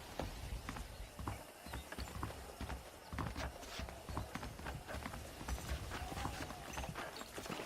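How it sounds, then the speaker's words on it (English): Horse hooves clip-clop steadily as a saddled horse is ridden in Red Dead Redemption, with continuous rhythmic hoofbeats and a brief whinny against outdoor ambience, no voices. "Okay, let's see if you can still ride a horse."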